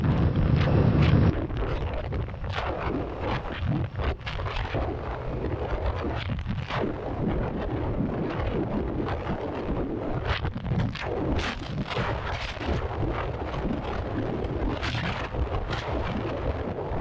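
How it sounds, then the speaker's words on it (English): Strong wind roars continuously over the microphone during an outdoor ride on a rural road past farm fields, a loud, gusty buffeting with a dense low rumble throughout and no talk. "Ooh, that's a strong wind."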